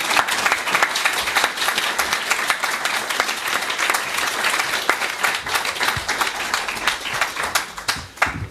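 Loud, sustained applause from a large audience, dense clapping that holds steady throughout without pause.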